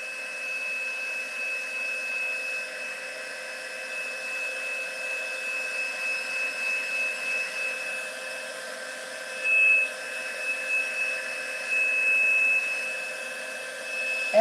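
A heat tool blows steadily over a stamped card to dry watercolor paint, a continuous airy whir with a slight tonal hum holding at even volume for the whole stretch, close by and uninterrupted, with no talking.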